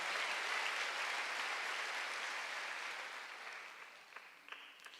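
A church congregation gives a brief burst of applause during a Sunday worship sermon, a dense even patter that fades over a few seconds and breaks into a few scattered last claps.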